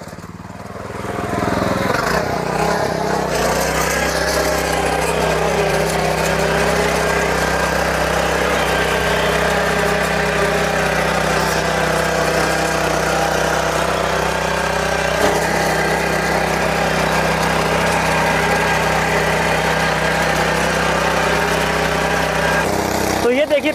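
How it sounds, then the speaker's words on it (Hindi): Sraja RX11 Deluxe power weeder tiller running in second gear, a steady loud engine drone that holds almost unchanged for the whole stretch, close by and continuous. "फिलहाल जो ये टिलर है ये दूसरे गियर में चल रहा है"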